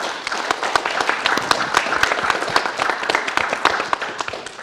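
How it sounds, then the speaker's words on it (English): An audience gives a round of applause for a new podcast at a live network presentation, dense overlapping clapping that holds steady and fairly loud throughout without a break. "why don't we get a round of applause for the new podcast we got?"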